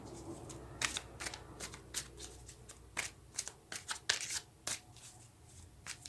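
Tarot cards being shuffled by hand, a rapid run of soft riffling flicks and slaps in irregular bursts, close and quiet with no speech.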